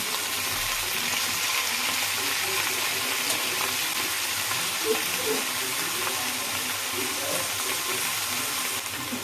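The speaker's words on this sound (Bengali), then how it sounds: "এখন আমি দিয়ে দেব পেঁয়াজ কলি আর খেসারির শাক" Spring onion stalks and khesari (grass pea) greens sizzle steadily in a hot pan, a continuous close frying hiss that holds evenly at the same level for the whole stretch with no voices.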